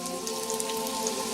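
Onions sizzling in hot oil in a wok, a dense, even crackle that stays steady and fairly loud throughout the short moment, with no talking.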